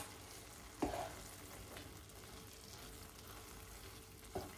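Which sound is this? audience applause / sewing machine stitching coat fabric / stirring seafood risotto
stirring seafood risotto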